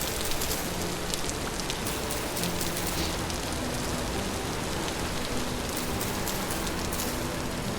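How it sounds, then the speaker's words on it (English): Steady, dense rain hisses in the video game Vintage Story, a constant wash of falling drops with no breaks and no talking, filling the whole stretch evenly. "Rain very common. It just must be the rainy season."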